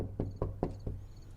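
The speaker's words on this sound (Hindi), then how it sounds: "कोई दरवाजा खटखटा रहा है।" Four evenly spaced knocks on a door, quiet and slightly muffled, with a low steady hum beneath and no voices.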